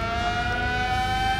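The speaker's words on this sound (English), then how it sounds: "There's the siren." A siren wails in the video game GTA 5, a steady, sustained tone held at an even loudness with no talk over it.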